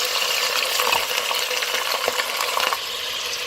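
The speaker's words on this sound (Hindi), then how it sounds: "अब मैं इसके अंदर चिकन ऐड कर देती हूँ।" Chicken pieces drop into hot oil in a pan while cooking chicken pulao, setting off a loud, steady sizzle with clinks and scraping stirs throughout.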